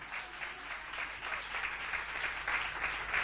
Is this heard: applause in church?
yes